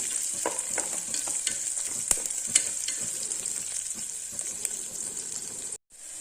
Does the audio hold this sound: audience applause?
no